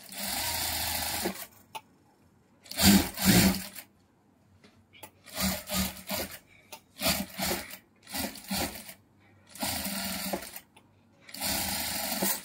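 An electric sewing machine stitches lace onto fabric with double stitches, running in short, loud bursts of rapid whirring separated by quiet pauses.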